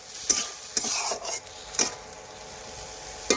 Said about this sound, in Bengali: এই দেখুন এইভাবে ভালোভাবে কষে নিচ্ছি